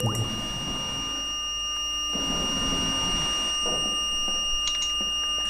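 A train cab alarm in the Metrostroi subway simulator beeps as steady high-pitched tones that drone on for several seconds, with a few short extra bleeps near the end and faint background rumble.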